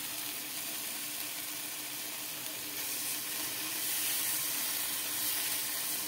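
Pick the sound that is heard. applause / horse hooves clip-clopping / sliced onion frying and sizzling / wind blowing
sliced onion frying and sizzling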